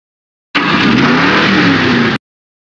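A car engine revving as it drives in the PS1 game Vigilante 8 2nd Offense, one loud sustained vroom lasting under two seconds that starts and cuts off abruptly, with silence around it.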